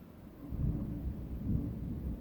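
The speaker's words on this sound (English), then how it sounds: "it is thundering and lightning outside" Deep, rolling thunder from a storm outside, a low steady rumble that swells twice over a couple of seconds, heard from indoors with a faint wash of rain beneath it.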